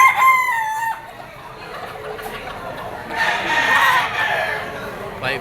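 A yellow-legged Picom gamefowl stag crows close by at a crowded auction market, followed by clucking and other fowl calls amid background chatter.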